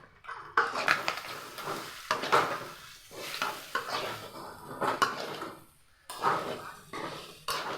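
A utensil stirs chicken liver and spices in a pan, scraping steadily under a soft sizzle with repeated close metallic knocks and no speech.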